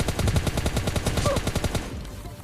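A close, rapid burst of automatic gunfire from a battle royale video game rattles off in an even rhythm for about two seconds, then cuts out into a faint tail.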